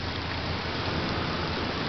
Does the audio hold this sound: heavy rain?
yes